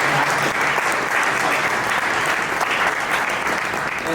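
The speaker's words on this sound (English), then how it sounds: "Give a round of applause for our panelists." A room full of people applauds the panelists at a community education panel on the future of currency, a dense, even patter of clapping that holds steady and loud throughout.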